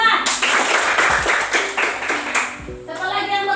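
Students clap in a classroom after a classmate answers, a busy patter of hands filling the room with voices mixed in, tapering off near the end.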